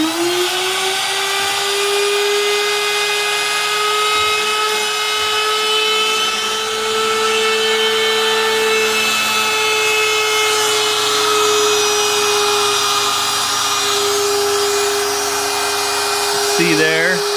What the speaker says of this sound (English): Turn my spindle on now, it's going to get loud.